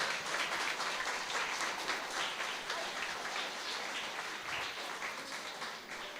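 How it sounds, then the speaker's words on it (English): Audience applause at a primary school spelling bee competition, dense continuous clapping that holds steady and slowly tapers, with no voices over it. "Let's give them a round of applause"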